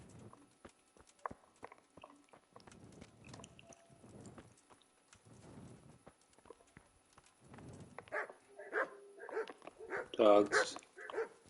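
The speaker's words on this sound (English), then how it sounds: "Dogs." Dogs bark in the medieval video game Kingdom Come, several sharp yaps bunching together near the end after a stretch of quiet talking and soft clip-clop sounds.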